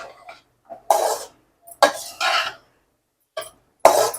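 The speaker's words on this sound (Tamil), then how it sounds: "நல்லா எல்லா பக்கமும் பாஸ்தா ஃபுல்லாக நல்லா மசாலாவில் போட்டாகிற மாதிரி நல்லா கிளறி கொடுத்துருணுங்க" A spoon scrapes and stirs veg pasta through masala in a pan, with four or five separate close, rasping strokes broken by short quiet gaps and no voices.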